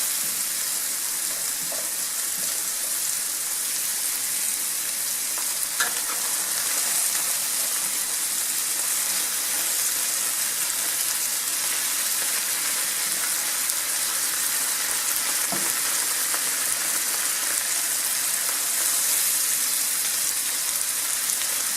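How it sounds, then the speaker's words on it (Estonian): An onion stewing in a little water in a pan gives a steady, soft crackling sizzle with faint bubbling that stays even throughout, close and alone. "niimoodi me hautame seda sibulat enam ei prae"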